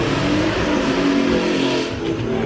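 A car at a car meet revs hard and holds a loud, roaring engine drone through a burnout, close and continuous with faint tire noise and no speech.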